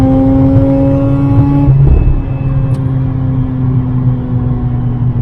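Mazda RX8 rotary engine screaming near high revs on a wet track, then the pitch drops sharply as it backs off and settles into a lower steady drone, loud and close.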